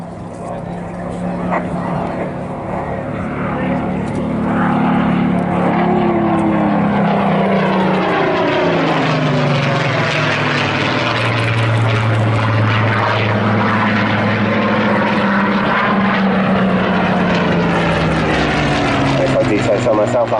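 A Hawker Hurricane propeller fighter at the Southport Air Show runs loud and close, its engine drone swelling after a few seconds and shifting pitch in long sweeps as it passes, with a commentator's voice over it.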